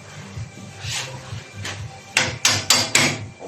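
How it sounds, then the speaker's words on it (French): A hammer taps a bolt back into a Honda Elystar 125 scooter engine, starting with soft light knocks and then four sharp, louder metallic strikes in quick succession near the end. "On va reposer le boulon, on va le taper."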